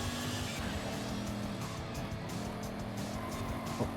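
Lexus racing car in Forza Horizon 5 accelerating hard, a steady droning engine tone with tire squeal and skidding texture running continuously at close range, no voice over it.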